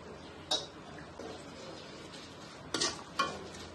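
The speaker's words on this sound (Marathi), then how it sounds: "आता हे तेल गरम आहे तोपर्यंत आपल्याला परतून घ्यायचं" Turmeric and salt being stirred into warm oil for chivda, with a few sharp scraping clicks of a spoon against the pan over a low, quiet background.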